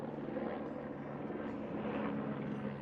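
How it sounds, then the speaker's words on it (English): A helicopter's steady rotor drone hums continuously at moderate distance over Pashupatinath Temple in Kathmandu, holding a constant level with no voices. "There's a helicopter coming in."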